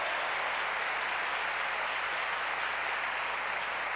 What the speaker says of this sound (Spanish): Ese aplauso fuerte, fuerte al Señor